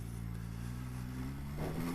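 A 2019 MV Agusta Turismo Veloce Lusso SCS motorcycle idles steadily up close, then pulls away in first gear as the engine note climbs toward the end.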